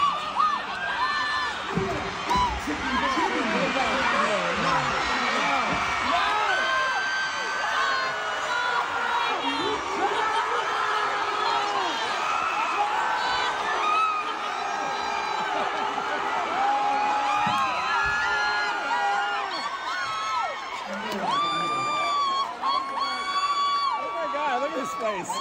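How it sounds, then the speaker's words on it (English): Large crowd screaming and cheering with excitement at a surprise appearance during a Grease reunion, dense and loud throughout, with high shrieks and whoops over talk. "I can hear them all screaming with excitement."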